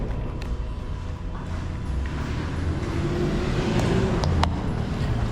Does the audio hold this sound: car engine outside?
yes